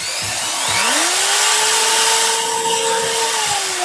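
An impact drill runs in forward, its motor whining up quickly and holding a steady, loud pitch for several seconds before winding down slightly.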